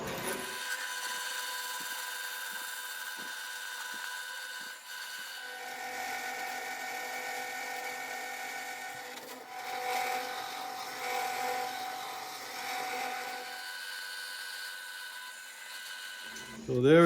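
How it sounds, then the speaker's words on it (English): A bandsaw cutting a part for a six-cycle engine build, then a 1 inch belt sander, a steady whining machine hum with tonal overtones and shifting grinding tones, continuous and moderately loud. "So I'm sawing this off and leaving the line, and I just sand up to the line with the 1 inch belt sander."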